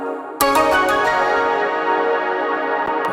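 A plucked shamisen layered with a synth part in an electronic track, entering sharply and ringing on as a bright, sustained harmonic tone with a few faint later plucks, with no voices.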